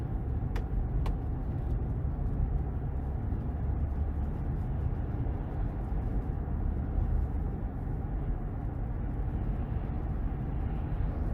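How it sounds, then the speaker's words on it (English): Muffled traffic passing outside a 2023 Chevy Tahoe High Country with 22-inch wheels and a 6.2 V8, heard from inside the quiet cabin as a steady low road rumble with no talking. "as I'm hearing the cars pass by, really, really nice cabin acoustics"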